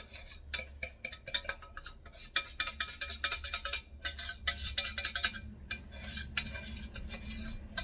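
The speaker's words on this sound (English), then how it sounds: "Pour in my cheese sauce. Mix it up with the macaroni." Cheese sauce being stirred into macaroni in a pot, with a utensil scraping and clinking against the metal in quick, irregular strokes throughout, close and fairly loud, no talking.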